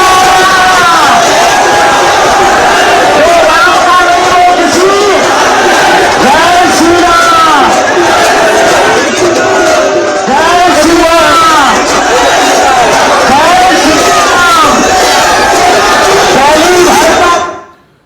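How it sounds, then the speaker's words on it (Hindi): A huge nighttime crowd of thousands walks with a preacher on a Hindu padyatra, a dense, loud roar of chanting and shouting voices with rhythmic swells of massed cries, continuing steadily before cutting off abruptly at the end. "रात का वक्त है और हजारों की भीड़ उनके साथ चल रही है"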